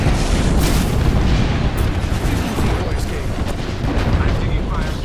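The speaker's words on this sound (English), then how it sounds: "Watch an airstrike" Rumbling airstrike explosions in Apex Legends, a dense, continuous barrage of heavy booms and blasts filling the whole stretch, loud and close, with no clear pauses.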